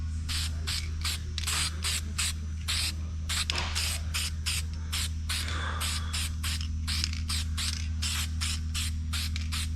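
Spray paint going onto an NP203 transfer case, delivered in about two dozen short, evenly spaced hissing bursts over a steady low hum, close and loud, with no talk.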